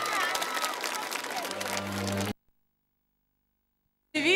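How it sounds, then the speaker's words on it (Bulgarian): Concert audience applauding at the televised opening show of a Bulgarian folk music TV channel, a dense wash of clapping and cheering for about two seconds before a sudden cut to silence, then a short loud burst at the end. "Аплодисменти за телевизия Планета Фолк!"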